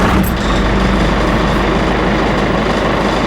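A Bullnose Ford F-150 with a Cummins engine idles nearby, giving a steady, loud low rumble with a continuous loose rattle running through it.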